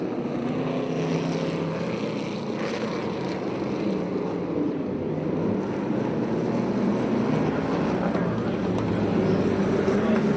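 USAC/CRA sprint cars race on the dirt track at Perris, California, their engines a continuous loud, droning roar that swells slightly as the pack passes, with possible faint talk underneath.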